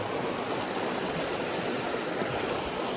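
River rapids rush loudly and constantly at a summer bass-fishing spot, a dense, unbroken roar of turbulent water close by with no voices.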